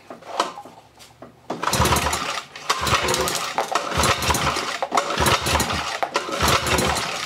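A 1963 Evinrude 5.5 hp outboard motor is cranked over several times for a compression test, giving a loud, rhythmic mechanical churning with repeated pulls that starts after a quieter opening moment and runs steadily to the end.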